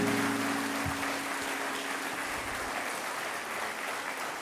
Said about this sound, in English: You may now please applaud for all degree recipients